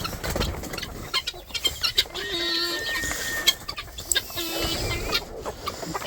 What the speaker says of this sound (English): we have hens over there laying